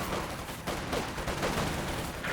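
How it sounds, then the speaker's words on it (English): A mortar barrage in Company of Heroes 2, dense overlapping explosions and gunfire crackling continuously and loudly throughout, with no talk. "Just getting mortar barrage right around here and should be just fine."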